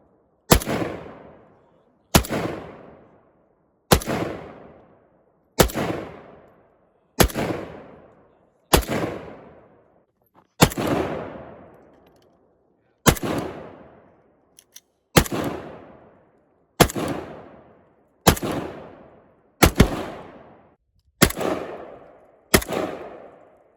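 Single gunshots ring out at an outdoor shooting range, about fourteen loud, sharp cracks spaced a second or two apart, each trailing off into a short echo, with no talking.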